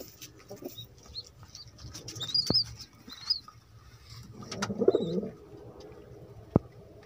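Pigeons in a loft in Lucknow, India, coo softly at intervals, with a burst of wing flapping midway and a sharp knock near the end against a quiet background.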